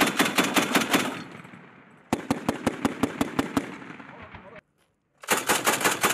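A USMC Mark 19 40mm automatic grenade launcher fires in rapid, evenly spaced bursts of loud thumping shots, with one pause and then a full stop before a final burst resumes, with no voices.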